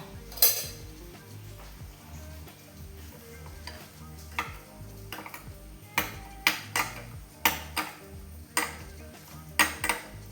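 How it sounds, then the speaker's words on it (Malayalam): A spoon clinks and scrapes against a pot while salt is stirred into biryani, a series of sharp metallic taps spaced irregularly over a low kitchen hum, growing louder and more frequent toward the end. "ഉപ്പ് ഇനി സ്പൂണിനെ കൊണ്ട് ഇളക്കി കൊടുക്കാം"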